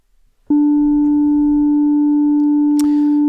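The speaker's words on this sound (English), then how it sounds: "we have a basic sine wave here" A basic sine wave from the FRMS granular synthesizer starts abruptly and holds as a pure, steady, loud tone, with faint clicks and a brief noisy burst near the end.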